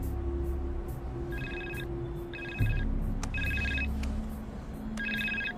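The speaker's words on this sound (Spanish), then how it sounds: "Oye, ese es mi teléfono." A mobile telephone rings in repeated electronic bursts, four trilling rings spaced about a second apart, fairly close and clear over a low droning background.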